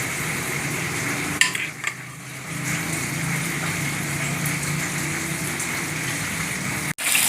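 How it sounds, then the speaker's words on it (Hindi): Breaded zinger chicken pieces deep fry in hot oil with a steady, dense bubbling sizzle, a few scrapes early on and a sharp clunk near the end. "ये जिंगर पीस बिल्कुल फ्राई हो गया है।"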